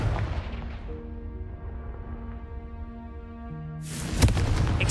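A Confringo blasting spell in Hogwarts Legacy bursts into a loud, sharp explosion near the end, after a stretch of sustained musical tones and quiet game ambience.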